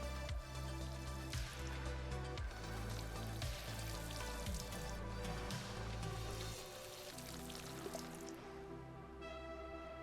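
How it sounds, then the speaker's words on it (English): Watering freshly planted crops in a floating-island farming game, heard as a steady run of pattering water drops and dripping over layered game music, near and moderately loud throughout. "now we need to water them"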